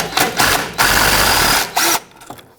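A 10mm socket on a power tool unbolts the brake hose bracket bolt from the frame of a 1998-2011 Ford Ranger, giving two close, loud bursts of buzzing ratchet-like whirring with a short pause between them.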